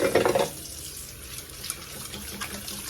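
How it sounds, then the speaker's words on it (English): Dinner plates being rinsed under a running kitchen tap, with a louder splashing burst at the start settling into a steady, moderate stream of water. "So the next thing, we have to start rinsing the plates."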